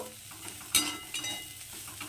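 Garlic and beans with pepper frying in a pan with a pinch of sugar added, a soft steady sizzle with one sharp stir or scrape midway and a few quieter stirring touches after.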